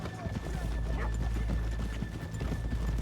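Horse hooves clip-clop in the Red Dead Redemption 2 video game, a close run of rhythmic hoofbeats with a low rumble beneath and a voice talking over them.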